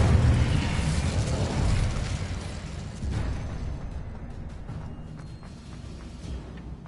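A fiery Incendio spell in Hogwarts Legacy bursts with a loud, rumbling whoosh of flame that rolls and gradually fades into a softer crackling tail over several seconds.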